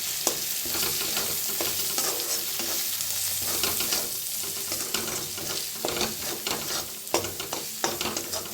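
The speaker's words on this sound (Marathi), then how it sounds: "आता भाजून घेऊया" Coriander powder, sabzi masala and red chilli powder roast in oil in a pan, with a steady close sizzle and repeated scraping stir strokes that grow more pronounced toward the end.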